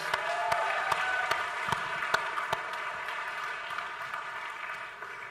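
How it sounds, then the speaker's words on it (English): Audience applause at a YouTube Brandcast event, steady clapping from a large crowd in a hall with a few sharp individual claps standing out, slowly fading toward the end. "I think we should give Bowman a huge round of applause."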